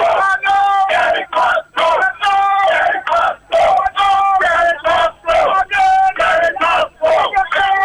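A crowd gathered outside police headquarters chants in loud, rhythmic bursts of massed voices, separated by short pauses, close and continuous across the span.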